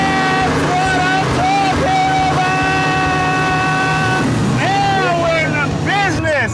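Ford Mustang engine pulling hard under acceleration, its tone climbing in repeated sweeps as it revs up, loud and close throughout.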